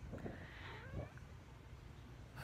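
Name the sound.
cat meowing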